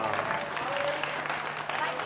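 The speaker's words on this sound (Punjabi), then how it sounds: "ਸਾਡੀਆਂ ਸਾਰੀਆਂ ਬੱਚੀਆਂ ਲਈ ਤਾੜੀਆਂ" An audience at a charity society's community programme in Ludhiana claps continuously after girls perform a giddha dance, while a voice speaks over the applause.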